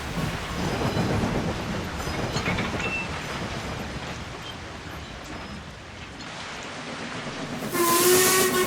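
A steam train rumbles and hisses steadily, then a loud, shrill steam whistle blasts near the end, with no speech.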